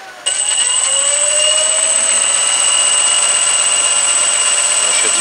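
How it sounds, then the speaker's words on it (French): Electric motor of a PULMA aircraft spins up, then holds a loud steady high-pitched whine with tonal harmonics and a slight pitch shift as it settles, continuous throughout. "le moteur tourne"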